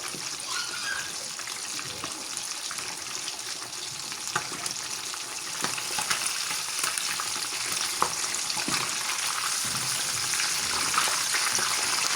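Chicken pieces frying in oil, turned on both sides, with a continuous close hissing sizzle and occasional soft clicks of turning.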